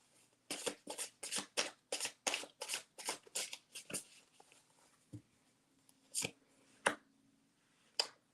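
A goddess oracle card deck being shuffled by hand, a quick run of crisp riffling bursts in steady rhythm, then a few slower, separate card snaps, close and quiet.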